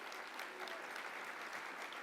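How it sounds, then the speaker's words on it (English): A business economic forecast event audience claps for its title sponsor, the Port of Tacoma, in a steady, even wash of applause from many hands, fairly soft and distant, continuing unbroken throughout. "Let's give them a round of applause"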